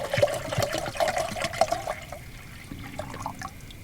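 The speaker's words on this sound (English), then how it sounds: "So pour us some water in the old jet boil." Water pours into a Jetboil camping stove pot in a steady stream for about two seconds, then stops.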